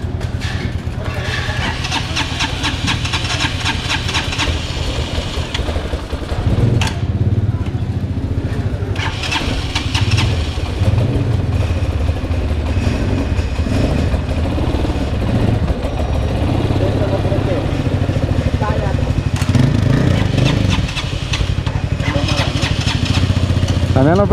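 A motorcycle is being started with repeated cranking and sputtering, its engine catching and revving roughly, loud and close throughout, with voices talking over it.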